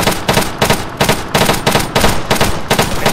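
Rapid bursts of automatic gunfire ring out in the Arma 3 video game, loud and close, firing in quick repeated volleys with brief gaps between them.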